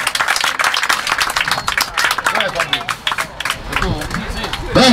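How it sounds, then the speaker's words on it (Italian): Scattered clapping breaks out at an outdoor children's fishing competition prize-giving, rapid uneven hand claps close by with people talking over and around them. "Un applauso, forza!"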